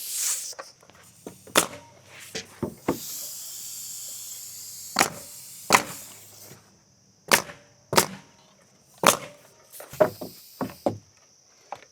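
A nail gun fires into wooden privacy fence boards, sharp loud clacks arriving one at a time or in quick pairs with gaps between, roughly a dozen shots close by, with a faint hiss of air.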